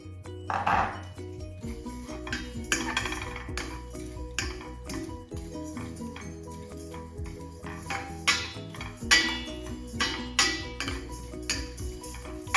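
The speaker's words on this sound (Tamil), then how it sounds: "பெருஞ்சீரகத்தை போடுறேன்" Fennel seeds are dropped into a pan, making light scattered ticks and pings with occasional metallic clinks of the pan and utensil against a quiet background.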